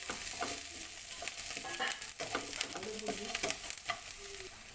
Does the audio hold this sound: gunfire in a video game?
no